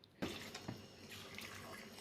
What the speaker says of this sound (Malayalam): അതിൻ്റെ കുറേ തണുത്ത വെള്ളം വന്നു